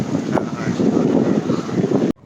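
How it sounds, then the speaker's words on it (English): Strong wind buffets the microphone in a continuous roaring gust during a motorcycle ride from Chennai to Mahabalipuram, loud and close, before cutting off abruptly at the end. "But like it's too windy now."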